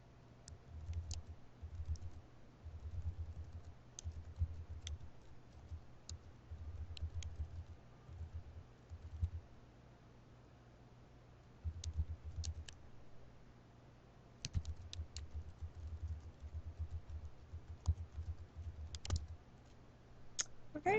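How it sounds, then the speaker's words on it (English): Faint typing on a computer keyboard while a blog post is written: sparse, irregular soft clicks and small bursts of keystrokes over a steady low hum, with short pauses between runs of typing. "start typing my own stuff"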